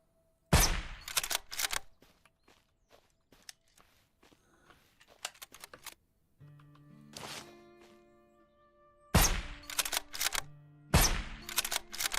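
Gunfire in the zombie survival video game Surroundead on nightmare mode, with sharp bursts of several shots near the start and more rapid volleys toward the end, separated by quieter game sounds and clicks.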